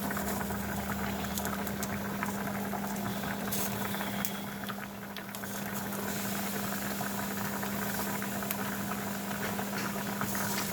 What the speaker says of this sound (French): Je vais prendre mes légumes. Je commence par les aubergines.